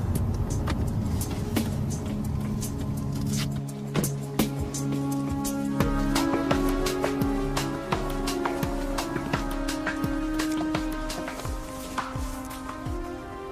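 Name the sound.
Dodge Charger car engine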